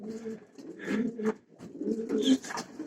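Pigeons cooing inside a loft, several soft throaty coos close by in two short bursts separated by a pause.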